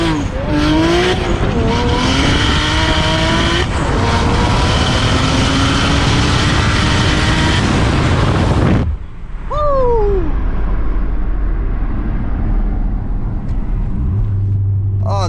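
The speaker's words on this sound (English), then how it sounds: "Oh, those sounds. I love the turbo. It sounds so good." A 600 hp single-turbo BMW 335i launches hard from a dig, the engine roaring loud and close with rising turbo whine and tire squeal for about nine seconds, then cutting off abruptly to quieter whooshing and faint chirps.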